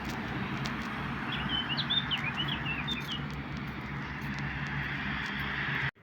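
Small birds chirp and trill in short bursts in the morning, over a continuous low rumble of distant traffic or an aircraft overhead.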